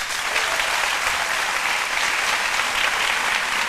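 An audience applauds with dense, steady clapping that fills the whole moment at an even, loud level and never lets up.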